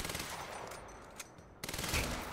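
Rapid automatic gunfire in the video game Quantum Break rattles in fast bursts, then stops briefly and resumes as a louder burst near the end, fairly close and without talk.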